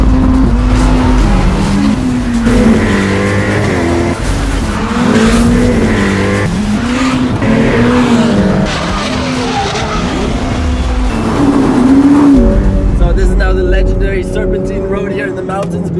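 A Ferrari F8 Tributo with a 720-horsepower turbocharged V8 is driven hard on mountain test roads, its loud engine rising and falling through gear changes with tire squeal between shifts. Someone talks over it throughout.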